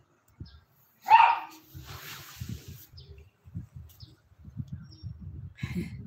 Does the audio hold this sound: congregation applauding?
no